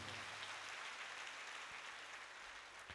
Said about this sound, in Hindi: ताली बजाकर हम प्रभु को धन्यवाद देंगे